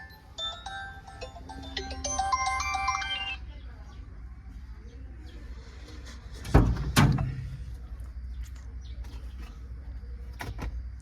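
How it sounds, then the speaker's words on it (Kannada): A mobile phone rings indoors with a bright electronic melody for the first few seconds. The ringtone then stops, and a couple of sharp thuds and faint room noise follow. "ನೀನು ಫೋನ್ ಬಂದಿ ನೋಡು"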